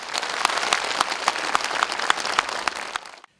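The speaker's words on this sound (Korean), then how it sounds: "한국 끝날 때마다 관객들의 박수갈채가 쏟아집니다" Audience applauds at a Buddhist temple cantata concert in an arts hall in Sejong, a dense, steady wash of many hands clapping that holds for about three seconds and then cuts off abruptly.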